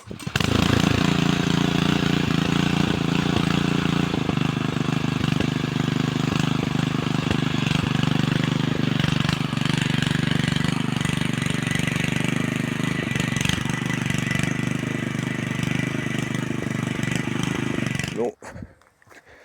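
A Kentavr MK-40 walk-behind tractor working soil with lug wheels and a hiller attachment, its engine chugging loudly and steadily up close before cutting off abruptly near the end.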